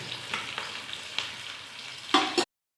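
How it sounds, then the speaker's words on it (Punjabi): Onions fry in a pan for an okra curry, a close, even sizzle broken by a few sharp stirring clacks and a louder burst near the end before sudden silence; no one speaks. "ਥੋੜਾ ਜਿਹਾ ਪਿਆਜ਼ ਜਦੋਂ ਭੁੱਜ ਜਾਣਗੇ"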